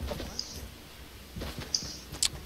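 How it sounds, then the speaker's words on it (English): Faint, brief high chirps of a bird in a video game, two or three short calls against a quiet low background. "I just heard a bird chirping in the game."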